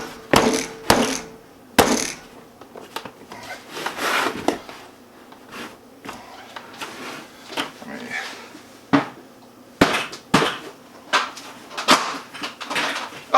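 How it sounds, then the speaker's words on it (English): Sharp, loud thumps ring out at irregular intervals as a Gamma lid is pounded onto a plastic bulk storage bucket, with rustling and knocking between the blows. "we want to pound this gamma lid on"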